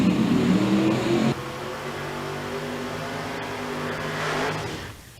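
Drag racing cars at the start line, including a Camaro, rumbling and revving loudly up close, with a heavy burst at first that settles into a steady idle drone before swelling again.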